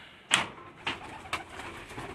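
Teddy pigeons of an original breed line give three soft, separated coos close by in a quiet loft, each a short muffled call followed by a lull.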